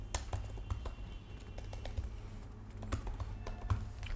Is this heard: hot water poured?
no